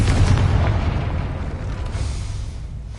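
A Confringo blasting spell goes off in the Hogwarts Legacy video game near a gate, a loud booming blast with a deep low rumble that slowly fades over a few seconds.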